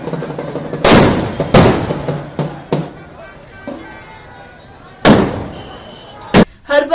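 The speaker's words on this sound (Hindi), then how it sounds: "टावर चौक पर जमकर आतिशबाजी हुई।" Fireworks bursting over Tower Chowk during street celebrations of a cricket win, with several sharp, loud cracks and booms at irregular intervals, including a couple of close pairs, over a low crowd murmur.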